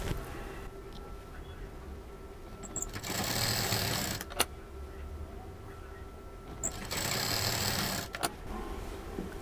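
Sewing machine stitching patchwork pieces together, with two sustained bursts of fast, steady motor whirring separated by quieter pauses and a few sharp clicks, fairly close and without speech.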